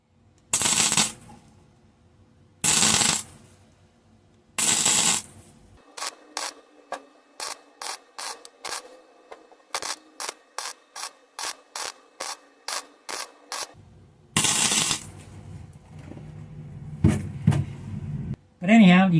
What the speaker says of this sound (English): you can see that's welding up very nicely